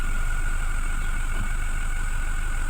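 A 2017 Toyota Fortuner engine idles steadily, a continuous mid-low mechanical drone with a faint high whine that holds even throughout, with no talking.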